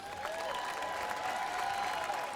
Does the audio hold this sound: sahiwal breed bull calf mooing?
no